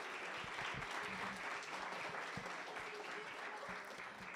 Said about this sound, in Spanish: Sí, un aplauso, ¿verdad?